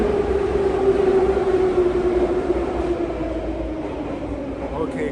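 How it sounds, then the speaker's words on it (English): St Petersburg metro train at Gorkovskaya station, a loud continuous rumble with a steady whining tone that slowly drops in pitch, close and enveloping. "Okay, Gorkovskaya metro station."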